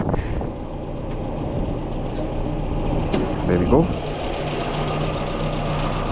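A Peugeot 309's TU3 1.4-litre petrol engine idles smoothly with a steady, even rumble, while someone speaks briefly over it.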